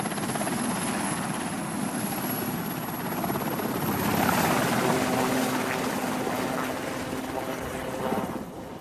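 A military helicopter arriving to land with Royal Marines, its rotor chop and turbine whine loud and close throughout, swelling slightly midway as it comes down.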